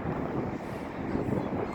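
Strong wind outdoors near Soldier Field in Chicago, a steady, loud rumbling buffet of gusts battering the microphone with no clear voices.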